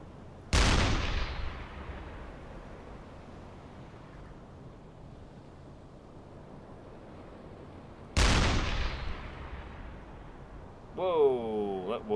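Two loud, booming shots from a submarine deck gun firing HE shells in the game UBOAT, spaced several seconds apart, each with a long rumbling decay over sea ambience, followed by a brief voice.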